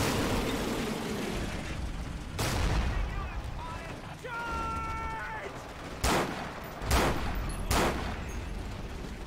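Gunfire from a World War II battle in the multiplayer game Forgotten Hope 2, set in Hurtgen Forest: a few sharp shots ring out at scattered moments over a dense, noisy battlefield din.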